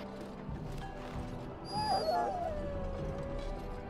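An injured dog in the Dragon Age video game gives a soft, rising whimper with a high, thin whine over a low in-game background hum, faint and brief.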